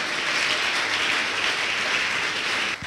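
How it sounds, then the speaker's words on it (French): Church congregation clapping in praise during a bilingual sermon: loud, thick, sustained applause from many hands, steady for nearly three seconds before dipping at the very end. "Give the Lord a big clap of praise."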